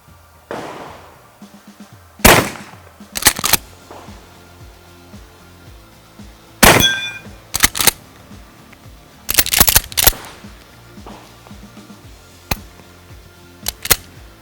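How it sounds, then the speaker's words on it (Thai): A rubber bullet gun fires at a target, several loud, sharp cracks spread irregularly, some in quick pairs, with quieter clicks and handling noise between shots. "ก็ ยิงไปนะครับ จากที่เห็นเมื่อกี้คือเพจล้มนะครับดังเป้งเลย"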